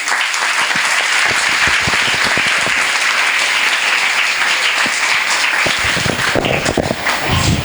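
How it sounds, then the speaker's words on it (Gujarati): Sustained, dense audience applause fills a hall after a motivational talk, steady and loud throughout with scattered sharper claps and no speech. "જોરદાર તાળીઓથી વધાવીએ."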